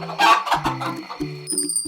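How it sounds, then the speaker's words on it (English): An animated hen clucks in a quick, close series of short notes, ending in a brief high tone. "H is for hen."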